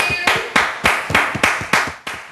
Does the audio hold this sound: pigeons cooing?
no